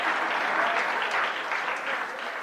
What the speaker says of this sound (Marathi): टाळ्या पुरुषांनी वाजवायला पाहिजे.